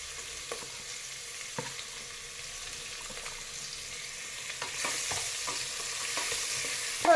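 Onion and chili frying in a pan: a steady close sizzle with occasional spoon clicks and stirring scrapes, growing slightly louder and hissier partway through, ending with a sharper clatter.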